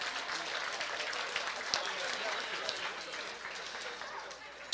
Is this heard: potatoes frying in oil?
no